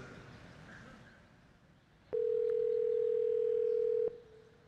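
A telephone call to a restaurant rings out once as a single steady two-second tone on a quiet line, preceded and followed by faint hiss.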